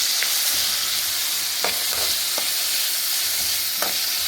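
Prawns with tomato and onion frying in a pan give a steady, close hiss of sizzling oil, punctuated by a few light spatula scrapes and taps, with no voices.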